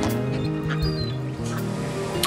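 Ducks and other birds clustered at a canal while being fed, their quacks and calls overlapping densely over a steady murmur, close by and fairly loud with no clear talk.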